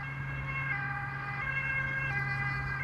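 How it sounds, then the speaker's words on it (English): A wailing ambulance siren rings out at moderate distance near Amsterdam Schiphol Airport, steady and continuous over a low road rumble, with no voices. "Oh, ambulance coming this way."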